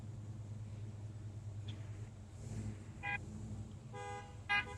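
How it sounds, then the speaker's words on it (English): Car horns toot in short bursts during an evening rolling car show in Doylestown, a few separate honks over a low steady traffic rumble, the last one nearest and loudest. "I can hear them honking their horns"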